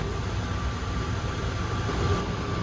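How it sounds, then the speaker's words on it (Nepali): An inter-terminal train at Atlanta's airport carries riders between gates, its steady rumble and rolling wheel noise filling the car with a continuous low drone and a faint high whine, with no talking. "अहिले चाहिँ ट्रेनमा चढेर अर्को गेट जाँदैछौँ।"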